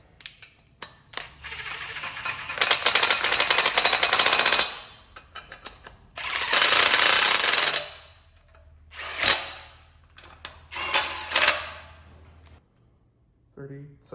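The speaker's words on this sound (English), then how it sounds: "I'll run these in with the impact." An impact wrench runs in valve cover bolts on an LQ4 LS engine in loud rattling bursts of a few seconds each, with brief clicks and handling noise in the pauses between them.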